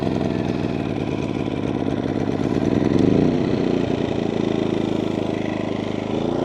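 A Power Smart 2500 watt inverter generator running steadily at close range with eco mode off, a loud continuous mid-pitched engine drone with a slight swell in pitch partway through, no voices.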